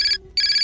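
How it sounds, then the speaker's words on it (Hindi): A mobile phone rings close by with a bright electronic ringtone, two bursts split by a short gap. "साथ ही शुरू हुआ निकिता के फोन का बजना"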